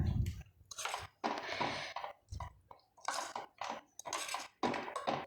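A spoon scrapes and clinks against a pan in irregular bursts while carrot pachadi is stirred and mixed, close and fairly loud with short pauses between strokes, no voices.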